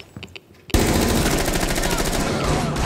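Sustained automatic machine gun fire in a video game bursts in abruptly after a few quieter shots and rattles loud and close in a dense, continuous stream for over two seconds.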